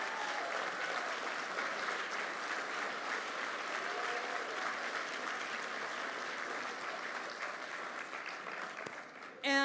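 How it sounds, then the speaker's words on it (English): An audience at a call center awards dinner applauds, a long, steady wash of clapping from many hands in a large room, fading slightly before a voice cuts in at the very end. "I'd like a round of applause."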